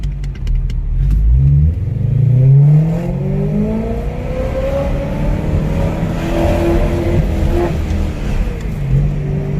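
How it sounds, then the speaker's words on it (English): A supercharged BMW E92 M3 engine is revved with throttle blips, its pitch sweeping up and falling back in several loud, close rises over a steady underlying drone. "This is throttle."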